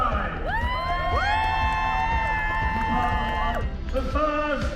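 Crowd of diners on the port side at a pirate dinner show cheers and whoops together, a loud sustained roar of voices with rising shouts.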